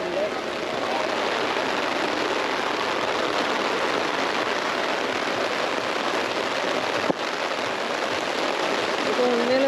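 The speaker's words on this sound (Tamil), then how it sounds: "இப்போ உண்மையில சீசனே இல்லாத தான் இப்படி பயங்கர மழை ஒன்று பெய்யுது" Heavy, steady rain pours down across an outdoor food festival in Colombo, a dense continuous broadband hiss with one sharp click near the end and no speech.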